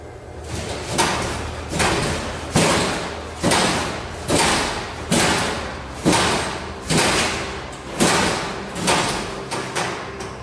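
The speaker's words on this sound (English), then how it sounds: "One locker door began shaking violently. It jerked repeatedly" A metal locker door in a row of lockers jerks and bangs again and again, about ten loud clanging thuds at a steady pace of roughly one a second, each followed by a short rattle.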